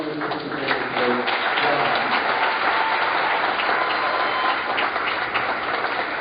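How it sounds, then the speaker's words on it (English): Sustained applause from an audience at a Seacoast GOP senatorial debate, a dense, loud wash of many hands clapping that holds steady throughout, with voices faintly mixed in. "would you please give a nice big round of applause for our lovely participants"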